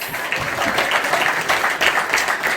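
Audience applause with steady, dense clapping throughout, loud and continuous with no talk over it.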